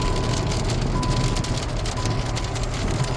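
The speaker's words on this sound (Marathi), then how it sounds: "पाऊस आलाय आता." Steady rain falls on a road during a car journey, a dense continuous hiss of drops spattering on surfaces and the vehicle, close and loud throughout, with no speech.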